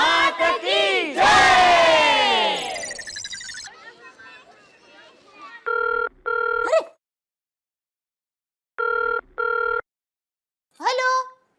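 A household telephone rings twice in bursts, each a pair of short electronic trills separated by silence, following loud crowd cheering and chanting that fades out beforehand.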